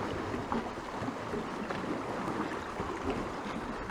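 Choppy lake water on Lake Baikal laps and splashes steadily around a kayak near a cape, a close, constant wash of broadband noise with small splash bursts and no voices.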